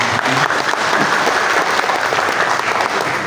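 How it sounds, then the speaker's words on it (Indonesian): An audience at a disaster-preparedness workshop gives steady, lively applause, many hands clapping at once in a dense, even roar that fills the room and holds at the same level throughout. "berikan aplaus yang meriah"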